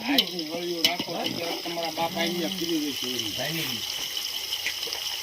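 Whole onions frying in oil for a Gujarati whole-onion and paneer curry, a steady bubbling sizzle throughout, with someone speaking over it.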